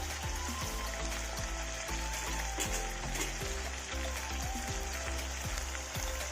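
Chicken with spices sizzles steadily in hot oil, a soft continuous crackle with faint clinks, and no voices.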